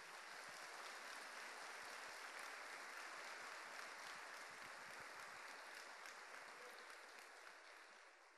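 A church congregation applauding the Lord during a Portuguese sermon, steady dense clapping from many hands filling the room and holding without a break, fading slightly toward the end.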